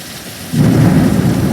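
A loud, close thunderclap bursts in halfway through over steady heavy rain, rumbling on without a break to the end during a gusty thunderstorm.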